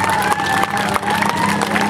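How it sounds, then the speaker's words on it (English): A crowd at the Ionia Free Fair applauds and cheers, mixing dense clapping, shouts and whoops with an amplified voice carrying over the noise. "I think Richard needs a big round of applause right now"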